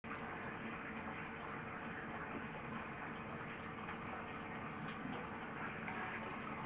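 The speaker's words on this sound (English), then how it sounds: "this is where the bath is coming out. It's actually flowing okay," Bath water draining through a partly blocked pipe and backing up the trap, a steady loud rushing gush of flowing water, close and continuous throughout with no pauses.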